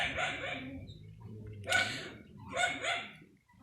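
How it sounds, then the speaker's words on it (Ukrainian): Dogs bark outdoors in a few separate bursts, with a low rumbling background between the calls, at moderate distance and with no one talking. "а ну секунду собачки гавкають"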